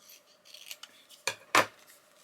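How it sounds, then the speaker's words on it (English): Scissors trimming paper for a junk journal, a few faint snips building to two crisp, close cuts, short and quiet with no talking. "I am going to trim this down."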